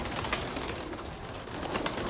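A flock of pigeons, one of about two hundred kept birds, coos softly in a continuous low murmur with a steady noisy background and no voices.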